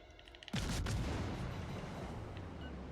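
A torpedo strikes a warship in the naval combat game World of Warships Legends, a sudden loud boom that erupts and then rolls on as a long, dense rumble of explosions and fire.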